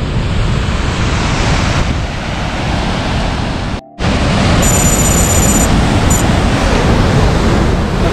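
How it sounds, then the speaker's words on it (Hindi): A glacier meltwater stream on a rocky mountain trek makes a loud, constant broadband roar. It cuts out for a moment midway, then resumes with a faint high electronic tone above it. "ग्लेशियर चल रहा है और इतना ठाठे मारता हुआ पानी"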